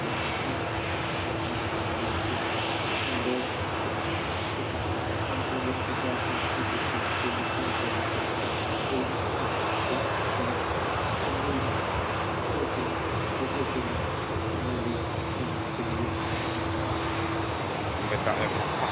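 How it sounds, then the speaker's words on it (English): Airliner passing on the taxiway at Manchester Airport, a loud, steady jet engine roar with a sustained whine, holding throughout while someone talks over it. "With that aircraft passing now"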